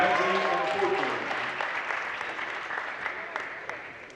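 A room full of people at a high school sports showcase applauds finalists, the clapping strong at first and slowly thinning out over a few seconds.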